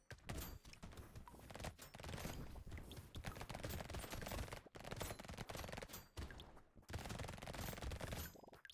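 Rapid SMG fire from the video game Brotato rattles almost nonstop in dense automatic bursts, loud and busy, broken by a few brief gaps, with game effects layered throughout.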